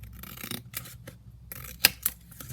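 Scissors snip around the edge of laminate on a junk journal page, a series of quiet, irregular cuts with small rustles and two sharper clicks near the end.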